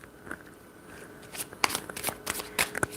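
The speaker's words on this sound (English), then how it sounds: "I do have to shuffle this deck because it's been a while since I used this." A deck of tarot cards being shuffled, with soft riffling and a run of sharper flicks and slaps toward the end, close and fairly quiet.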